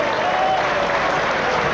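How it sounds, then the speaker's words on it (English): Spectators at a 1995 lawn bowls final clap in a brief, steady burst of applause, a dense patter of many hands heard at moderate distance. "And the crowd let Brad Duncan know"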